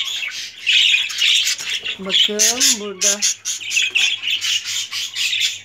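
Budgerigars and a cockatiel in a cage give harsh, repeated squawks and chattering calls throughout, with a louder burst of tonal calls in the middle and a person speaking briefly over them.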